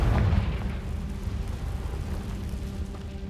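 A Confringo blasting spell detonates in Hogwarts Legacy, a loud, deep boom that opens the clip and then rolls into a long, rumbling low-end tail that slowly fades without any speech.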